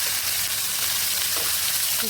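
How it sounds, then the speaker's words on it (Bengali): Fish frying in a pan being turned over; a dense, steady sizzle fills the short stretch, close and even, with a faint scrape near the end. "এদিকে মাছগুলো একটু ভাজা হয়ে গেছে, এখন উল্টিয়ে দেব।"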